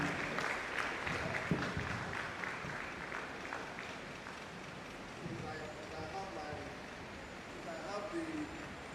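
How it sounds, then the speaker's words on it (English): A crowd applauding steadily for several seconds, a dense patter of clapping at moderate distance, with a voice speaking faintly over it. "Please, a round of applause for them."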